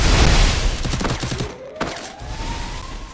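Rapid bursts of video game gunfire crackle loudly and densely through the first second and a half, then scattered single shots follow over a rising whine, all without talk.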